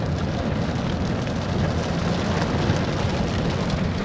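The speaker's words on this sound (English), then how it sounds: "this is like the hardest it ever rained" Heavy rain pours steadily in Gatlinburg, a dense, loud and unbroken hiss of downpour with no voices.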